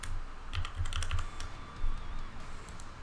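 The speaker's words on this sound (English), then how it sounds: "I've got one of those mechanical keyboards." Rapid clacking keystrokes on a loud mechanical keyboard, close and crisp, in irregular bursts over a faint steady background hum.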